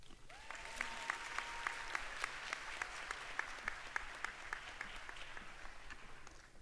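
The audience at a Wildcat induction ceremony applauds: soft, distant, evenly sustained crowd clapping that holds steady throughout with faint individual claps popping out of the wash.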